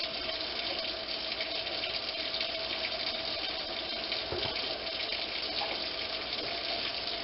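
Liquid pours steadily into water while brewing Coopers Wheat, a continuous soft splashing gush that runs on evenly with no talking.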